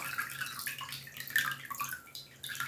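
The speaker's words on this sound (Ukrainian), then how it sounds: "Також відкрию, щоб повністю злити залишки води." Leftover water drains out of an orchid pot being treated for fungus, a faint, quiet trickle and splash that runs unevenly through the short moment with no talking.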